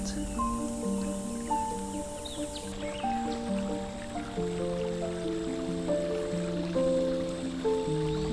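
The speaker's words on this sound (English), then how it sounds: "The running water in the far background." Gentle trickling water drips and flows softly in the distance in a forest in Dilijan, Armenia, beneath a slow, calm melody.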